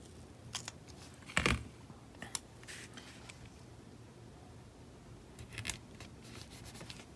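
Scissors cut a paper sticker off a sheet in a few quiet, close snips spread unevenly, with one louder cut early on and faint rustling in between.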